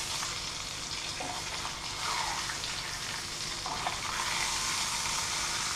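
Trout fry in a pan, a steady close sizzling hiss with a few soft scrapes and clicks as the fish are turned over, and no talking.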